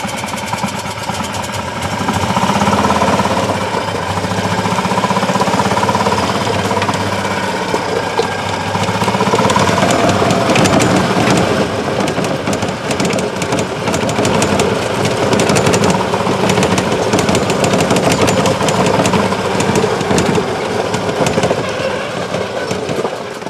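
A Club Car DS or EZGO TXT golf cart fitted with LED headlight bulbs drives outdoors, giving a steady, loud motor and rolling drone that lasts throughout with no talking.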